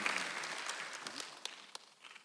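A church congregation at a Sunday service claps, the applause strongest at the start and thinning out, with a few scattered late claps.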